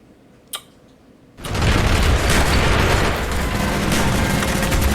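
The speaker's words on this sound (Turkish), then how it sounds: "Bomba patladı." After a quiet moment and a single sharp click, a sudden loud blast erupts into a sustained, heavy roaring rumble that fills the rest of the clip.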